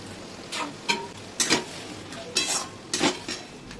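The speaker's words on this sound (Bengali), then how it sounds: "এবার আমি মাংসটা কষিয়ে নেব।" Mutton with tomato being sautéed in a pot for a curry, with five or six separate scrapes and clinks of a spoon against the metal over a soft sizzle, close and moderately quiet.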